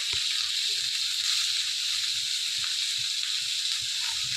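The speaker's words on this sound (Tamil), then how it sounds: "கடுகு வெடிக்கட்டும் கடுகு வெடிச்சிருச்சு" Steady hissing sizzle of mustard seeds spluttering in hot oil, with scattered small pops and crackles, close and continuous, no voices.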